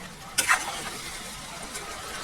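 A spatula scrapes and stirs pork adobo in soy sauce as it dries in a hot pan, one sharp scrape near the start followed by a quiet, steady sizzle.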